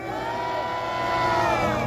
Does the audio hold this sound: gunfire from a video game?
no